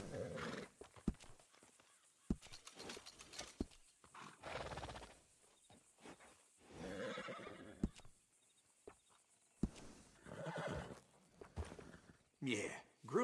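Horse in Red Dead Redemption 2, whinnying and snorting at close range with occasional hoof clops, heard in short bursts between stretches of talk and ambient game sound.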